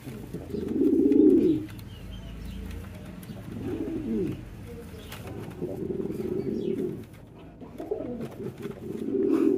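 Pair of lakka fantail pigeons cooing in repeated throaty rolling bursts separated by short pauses, close by and moderately loud, with no talking.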